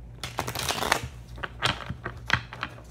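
Tarot cards shuffled by hand in a quiet room, a run of crisp riffling bursts and soft slaps coming close and fairly loud over about three seconds, with no talk.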